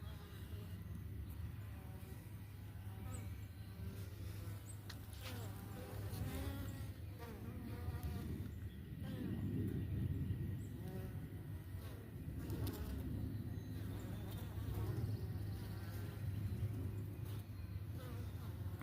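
Italian honey bees buzz steadily around their hive and a sugar-water feeder on an overcast morning, a continuous close drone with a person speaking faintly now and then.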